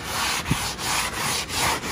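Sandpaper rubs back and forth over a knockdown wall texture in a steady rhythm of close, gritty strokes, alone.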